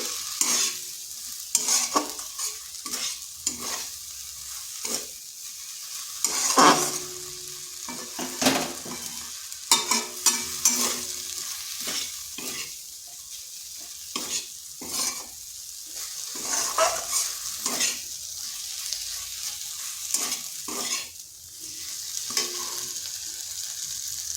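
Flattened rice and raw potato snack with chaat masala being stirred and mixed in a pan, a steady soft sizzle under repeated scraping and clinking strokes of a spoon, close and moderately loud, with no talking.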